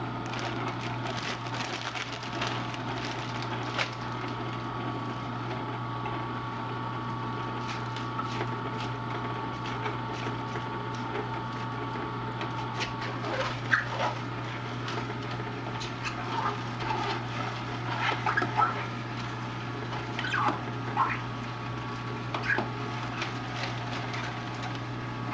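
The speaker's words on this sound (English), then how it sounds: "I'm going to juice a little bit of that as well, so you can see the power of the machine." An Omega 8006 juicer grinds romaine lettuce with a steady low motor hum throughout and faint, scattered crunching and snapping of leaves over roughly twenty-five seconds, no talking.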